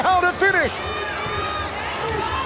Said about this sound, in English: The crowd are barking for Hansi Hao to finish.